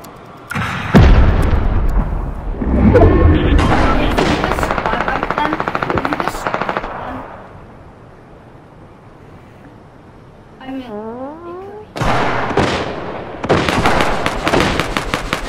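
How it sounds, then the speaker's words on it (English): Loud bursts of rapid automatic gunfire in an online shooter game, close and punchy, coming in clusters with a quieter lull midway before more volleys, mixed with excited voices of players talking. "Shots rolling in, boys."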